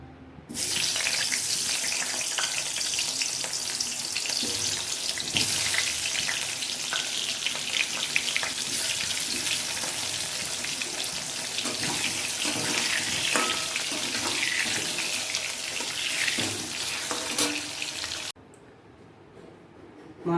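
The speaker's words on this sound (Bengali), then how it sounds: "এরপর আমি আমটা ভেজে নিচ্ছি" Raw mango pieces frying in oil make a loud, unbroken hiss of sizzling up close for most of the span, cutting off abruptly to quieter sound near the end, with no talking.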